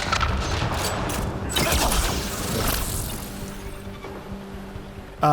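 Enemy gunfire in the sci-fi shooter Mass Effect Andromeda, a dense stream of shots and booms lasting throughout, fairly loud with crashing impacts layered over a steady background of combat noise.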